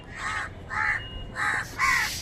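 Crows caw four times in a steady, evenly spaced series, each harsh call clear and fairly close against a quiet outdoor background.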